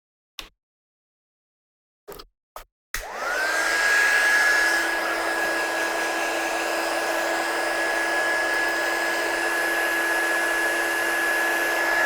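A heat gun switches on after a few sharp clicks and settles into a steady, loud whirring blow with a constant high whine, used to heat-set embossing powder on a card, running alone without talk.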